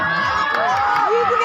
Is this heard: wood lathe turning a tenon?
no